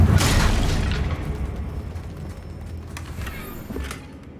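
Confringo blasting spell explosion in Hogwarts Legacy, a loud close burst at the start that decays into a rumbling tail with crackling debris and a smaller pop near the end.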